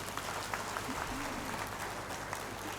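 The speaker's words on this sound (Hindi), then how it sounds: "अरे वाह, ताली बजाओ अपने लिए।" An audience claps for itself at a Gujarat Vidyapith foundation day ceremony, giving a brief, dense patter of applause in a large gathering with voices mixed in.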